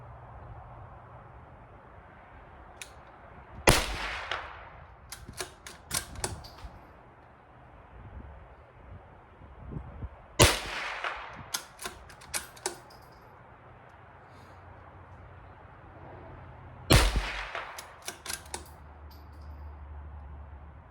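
A Ruger Precision Rimfire .22LR rifle fires Remington Golden Bullet ammunition: three sharp, fairly quiet cracks spaced several seconds apart, each followed by a cluster of metallic clicks.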